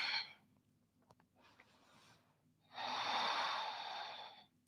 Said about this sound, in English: And keep breathing.